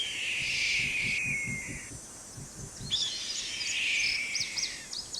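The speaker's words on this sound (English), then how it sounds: "red-tailed hawk." A red-tailed hawk call plays as a recorded bird call in a Nancy Drew video game, with long hoarse screeching cries over a low rhythmic background, then several shorter raspy notes near the end.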